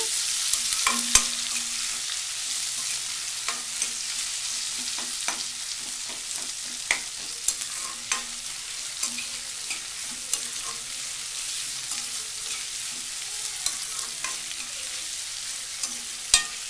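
Onion pieces sizzle steadily in hot oil in a pan for potato curry, with occasional sharp ticks and scrapes of a spoon stirring them, close and continuous with no voices.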